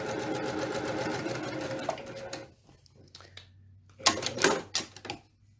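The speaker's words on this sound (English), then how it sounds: "So I'm going to start sewing, and I'm just going to sew along here, sew these two pieces together." A sewing machine joins quilt pieces with rapid, chattering needle stitching that runs for a couple of seconds, pauses, then returns in short bursts, close and fairly quiet.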